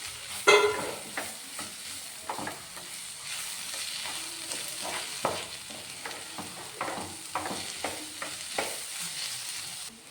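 Turmeric and a teaspoon of chicken masala sautéed in a pan, with a soft, continuous sizzle broken by frequent spoon scrapes and taps as the mixture is stirred; quiet and without speech.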